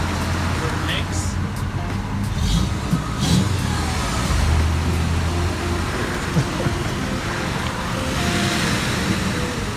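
A campervan's engine revs in neutral, giving a steady, loud low rumble with broad road-like noise that swells slightly mid-clip, while people talk over it.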